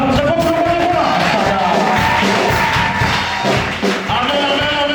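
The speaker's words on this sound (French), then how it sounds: "Acclamation pour le Seigneur." A church congregation at a worship service cheers and shouts in loud acclamation for the Lord, a dense, continuous roar of voices and whoops filling the space throughout.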